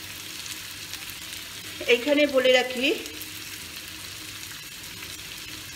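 Onions fry for a wallago catfish curry with a constant soft sizzle and a brief spoken remark from a voice in the middle.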